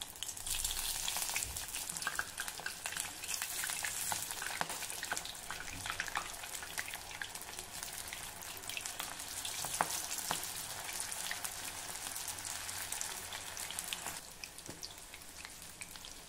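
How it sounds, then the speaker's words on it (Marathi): Corn bhaji fritters, pressed by hand and dropped into hot oil, fry with a steady, dense crackling sizzle that stays close and fairly loud throughout, with no talking over it. "आपल्याला ही भजी अशी बोटामध्ये घट्ट दाबून मग तेलात सोडायची आहे।"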